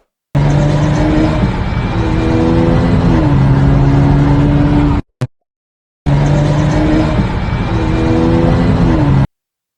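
Car engine at high speed, driven by a 16-year-old, roaring loud and close with rising revs and gear-change steps, cutting out briefly mid-way before resuming.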